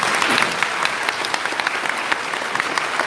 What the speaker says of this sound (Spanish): un fuerte aplauso para el hermano.